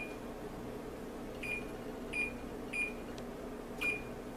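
Four short electronic beeps from an oven control panel being set to preheat to 350 degrees, evenly spaced over a steady background hum, fairly faint and close.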